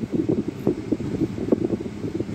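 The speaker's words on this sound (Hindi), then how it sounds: "एसी जो है काफ़ी अच्छा एसी है" Air conditioning in a new Maruti Suzuki Celerio blows steadily inside the cabin with the engine running, a close, even whoosh of airflow with slight fluttering and no voices.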